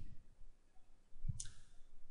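A single soft computer mouse click, quiet and close, against low background noise.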